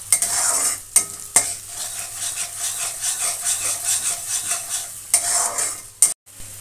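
Onion fried lightly in oil with cumin seeds is stirred briskly, a close scraping and sizzling texture with rhythmic spoon strokes against the pan, cut by short pauses and abrupt breaks.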